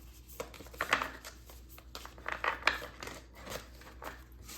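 A thick deck of angel tarot cards being shuffled by hand close up, quiet papery slides and riffling flicks in uneven bursts.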